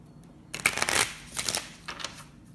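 A crystal-themed oracle card deck is shuffled in short handfuls, giving a few soft, close papery bursts separated by brief pauses.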